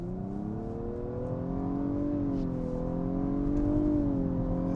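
A 2019 Nissan Maxima SR with a CVT accelerates hard in a steady, continuous engine drone. The pitch rises and falls slightly and the sound holds loud and close throughout, with no talk.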